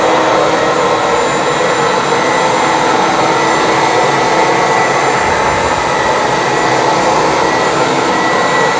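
A Bissell Big Green deep-cleaning carpet machine runs with a loud, steady motor roar and broad whooshing suction that holds constant throughout.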